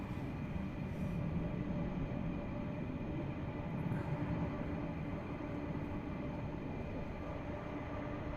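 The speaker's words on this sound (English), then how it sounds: "we're going to pan around to the C-17 on approach as well" A C-17 military transport aircraft on approach near an air base gives off a faint, steady, distant jet rumble and whine that stays even and continuous, with no voices.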